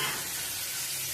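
Mustard seeds, cumin, dried red chillies, curry leaves and a pinch of asafoetida sizzle in hot oil as a tempering for onion tomato chutney, giving a close, steady, bright hiss that holds evenly throughout with no talking.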